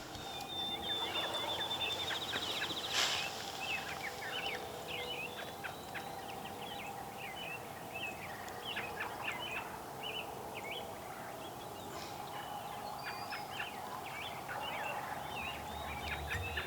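A wild turkey gobbles repeatedly from a distance across an open outdoor field, the rattling calls rising over a constant bed of chirping birds and wind, with no talking.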